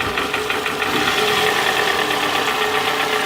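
A Toyota Camry engine idles roughly with one ignition coil pulled off, giving a steady, uneven pulsing knock and shake that carries close and loud the whole time.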